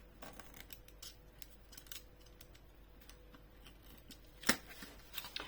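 Small cuts snipping a ribbon flush on a handmade pop-up Christmas card, quiet scattered clicks and rustles close by, with one sharper snip near the end and no talking.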